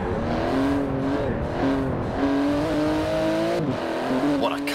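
A twin-turbo 3.8-litre flat-six with 700 horsepower, driven in Forza Horizon 4, drones steadily up close, its pitch rising and dropping through gear changes, with a brief tire squeal.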